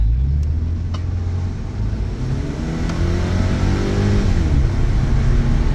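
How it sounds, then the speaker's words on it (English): A Subaru with a misfire at upper rpm runs at full throttle, its engine note climbing loudly and steadily, then falling back near the end. "Here we go for a full throttle test."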